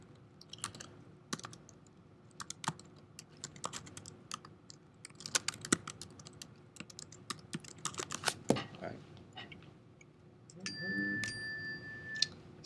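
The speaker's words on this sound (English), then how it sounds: "I'm already typing VI commands here." Keys clatter on a computer keyboard as Unix vi editor commands are entered, bursts of quick close clicks with short pauses, and a voice speaks near the end.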